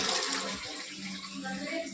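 Water gushing steadily out of a cleared drain pipe in a kitchen or bathroom plumbing line, a close, continuous rushing flow throughout.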